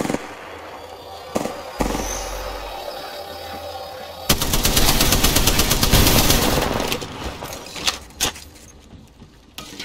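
Gunfire in the video game Apex Legends crackles in scattered sharp shots and then a sustained loud burst of rapid automatic fire that tapers off into a few more isolated cracks.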